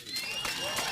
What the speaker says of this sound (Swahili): Makofi kwake moja